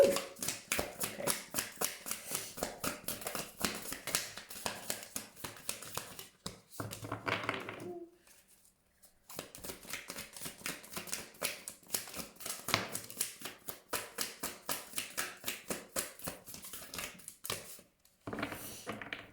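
Tarot cards are shuffled close up in quick, crisp bursts of riffling and tapping, with a short pause in the middle before the shuffling resumes.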